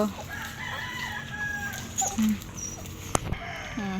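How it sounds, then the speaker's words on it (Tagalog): Dogs excitedly greeting someone arriving at a house, with short whines and yelps over a quiet yard; a rooster's crow is also audible, and a sharp bark-like burst stands out near the end. "Tuwan-tuwa po ang mga aso. Nananalubong."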